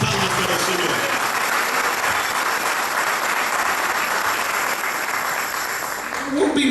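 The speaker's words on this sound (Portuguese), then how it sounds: "Put your hands together, give him uma salva de palmas para o Senhor." A church congregation at an Angolan independence anniversary thanksgiving service in London claps together in a loud, continuous wash of applause that holds steady before tapering off near the end.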